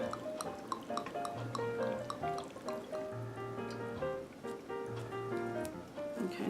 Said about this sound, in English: take the brandy or whatever other liquid you're using and fill it to the top